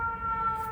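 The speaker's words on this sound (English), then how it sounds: "You're gonna hear sirens because where I live." A distant siren wails steadily in the background, faint and continuous, with no voices.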